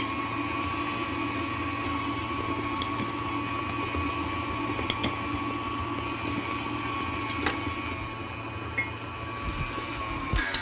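A tilt-head stand mixer beats butter into Italian meringue buttercream with a steady, moderately quiet motor whir and a high whine, plus a few faint clicks.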